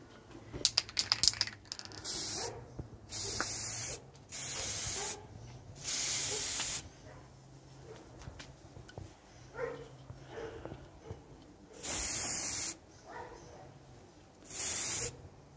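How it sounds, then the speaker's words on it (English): Aerosol spray paint hisses in repeated bursts of about a second each over a Star Wars Legion AT-ST model, with quiet handling clicks and rustles between the sprays. "Well, I've spray painted the model."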